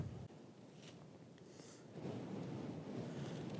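Gusts of wind buffet an outdoor microphone during metal detecting, a low rumbling roar that grows stronger and more continuous after a short lull, with no talking.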